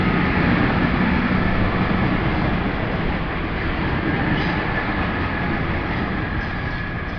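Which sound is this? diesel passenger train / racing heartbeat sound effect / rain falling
diesel passenger train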